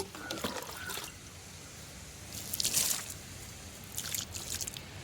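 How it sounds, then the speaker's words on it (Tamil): Water is poured into the pot of a freshly repotted, rootbound jasmine plant, making soft, faint, intermittent trickles and splashes in a few short bursts. "இப்போது கொஞ்சம் தண்ணி ஊற்றிடலாம்"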